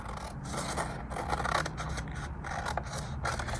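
Scissors snip and rasp continuously around the edge of old card paper in a quiet room, steady close cutting with small rhythmic blade strokes.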